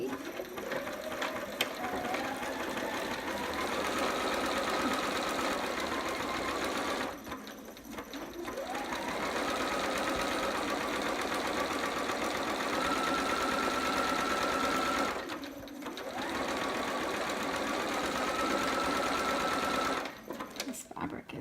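Sewing machine running zigzag stitch seams at a 1/4 inch allowance on unfamiliar, puckering fabric, with backstitching; three long steady runs of whirring motor and needle clatter separated by brief pauses.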